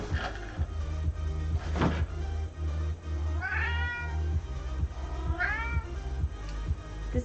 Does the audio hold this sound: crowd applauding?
no